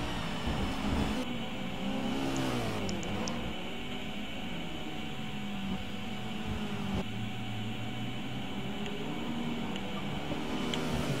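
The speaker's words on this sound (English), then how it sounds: "He's giving himself engine damage in that Porsche, clearly by revving way too hard." A Porsche race car in a Silverstone endurance racing video game, its engine droning and revving hard for a sustained stretch with steady whir and pitch sweeps, loud and continuous with no talk.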